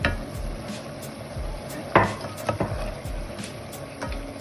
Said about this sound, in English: I'm gonna add my roasted cumin and coriander seeds